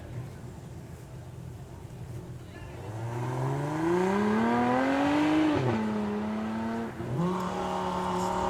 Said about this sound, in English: I love it when he holds it on that rev limiter, just there, ready to go, on that launch control